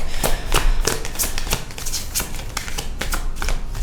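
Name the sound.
shuffling a deck of cards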